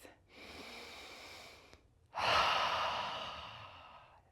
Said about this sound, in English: we're just going to breathe in and exhale out